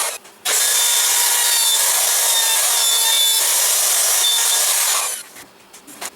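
A router makes shallow passes in wood for a Cessna 172 flight simulator panel, producing a loud, steady high-pitched cutting whine that starts abruptly, holds for about five seconds, then winds down, with no talking.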